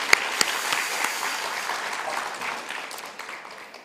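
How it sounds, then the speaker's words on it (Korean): Church congregation applauding together during a Sunday service, a steady wash of clapping that starts strong with a few sharp claps and gradually fades over about four seconds. "여러분 모두가 감사하는 마음으로 한번 크게 박수하시겠습니다."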